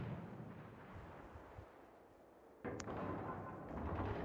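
Naval gunfire from a warship in the World of Warships video game: a sharp blast partway through, followed by a sustained booming rumble, with quieter rumbling before it.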